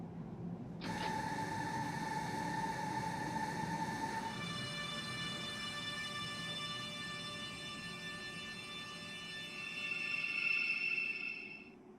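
BR474Plus electric train in Train Simulator pulling into a Hamburg S-Bahn station, a steady rumbling run with rising whining motor tones that swell near the end, with no talk.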